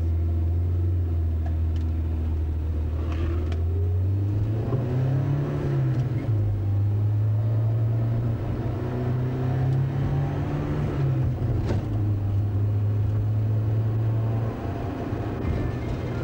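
Car driving along a road with a steady low engine drone that rises and falls in pitch as it shifts and accelerates, a continuous rumble throughout with faint rattles on top.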